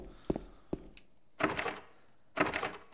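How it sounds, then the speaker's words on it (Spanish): A locked door with a broken bolt in the Silent Hill 2 video game gives two sharp thunks near the start, followed by two longer bursts of rattling, scraping noise as the handle is tried, loud and close with no talk. "Parece que el cerrojo está roto,"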